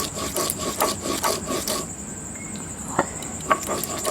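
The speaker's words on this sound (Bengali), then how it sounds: "আমি এখানে মশলা বেটেই নিচ্ছি" Cumin, ginger and green chilli are ground by hand with a little water into a fresh spice paste. Rhythmic rasping scrapes repeat quickly for a couple of seconds, then give way to a few scattered scrapes and taps.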